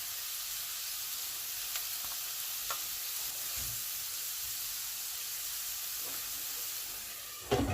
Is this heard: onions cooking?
yes